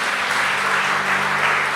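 A church congregation claps for the Lord during a bishop's sermon, with a continuous, steady wash of applause from a large crowd.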